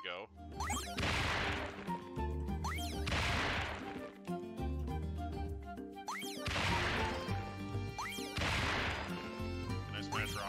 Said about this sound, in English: Can I smash rocks, please?